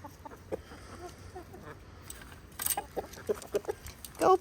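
Several chickens cluck and murmur nearby in short, irregular bursts, growing louder toward the end over faint background noise.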